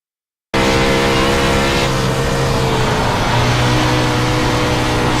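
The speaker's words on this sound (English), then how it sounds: "So as the car drifts out, like I said, I'm looking for the wall here, so I'm not scrubbing speed." A race car engine roars loudly and continuously while drifting around a slick dirt oval track, with the pitch rising and falling as the throttle is feathered and reapplied.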